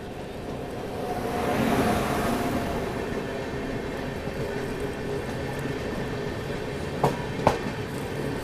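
A train rake moves past steadily in an Indian railway yard setting beside a stopped Rajdhani Express, a continuous low rumble with faint clatter, then two brief sharp clanks near the end.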